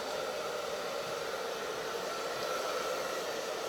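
A hair dryer blows steadily and loudly up close, drying hair set in 1920s-style finger waves, an unbroken whooshing roar with no talk.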